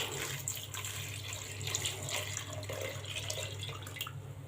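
Water poured into a pot of sambar during cooking, a steady rushing splash that runs continuously for several seconds over a low kitchen hum, with no talk.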